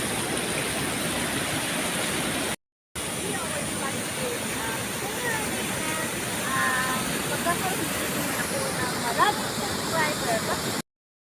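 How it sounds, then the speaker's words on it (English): A dangerous river rushes beneath a bamboo bridge with a loud, constant broadband roar of flowing water, cut by a brief gap of silence. Faint chirps or voices rise over the torrent near the end. "we're at the river"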